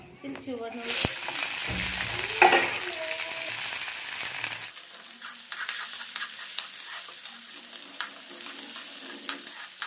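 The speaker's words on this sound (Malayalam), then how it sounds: "ഇനി ഇതിലോട്ട് കുറച്ച് ചുവന്നുള്ളിയും ഒരു പച്ചമുളക് അരിഞ്ഞതും കൂടെ ഇട്ട് കൊടുക്കാം." Chopped ginger, garlic, shallots and green chilli sizzle loudly in hot oil, a dense, steady frying hiss with occasional stirring scrapes and a brief tonal passage early on.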